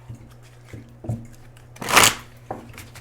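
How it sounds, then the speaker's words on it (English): Shuffling of a Heart and Soul Love Oracle card deck: a few soft riffling taps, then one loud, close burst of cards riffling through each other, followed by a lighter tap. "I'm going to pull from my Heart and Soul Love Oracle deck here."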